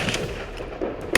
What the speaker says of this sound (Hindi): ये आतंकी नकली थे, गोलियां भी नकली थी